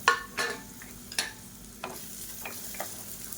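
Scattered stirring clatters and soft crackles over a faint sizzle of sliced onions and garlic frying in oil in a pan, a few light scrapes spaced out across the moment.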